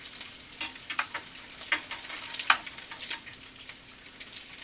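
Potatoes and onions frying in a pan, a soft continuous sizzle broken by irregular crackles and pops, close and fairly quiet, with no talk.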